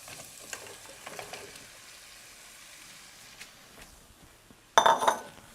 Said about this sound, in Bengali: এই পর্যায়ে দিয়ে দিচ্ছি আমি কেটে রাখা মূলা।